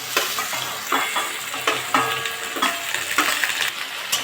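Small shrimp sizzle in a hot pan with fried onion and green chilli. The steady frying hiss is broken by repeated clinks and scrapes of a spatula stirring close by, with no talking.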